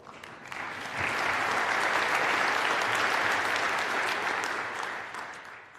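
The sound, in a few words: applause at the COP26 climate summit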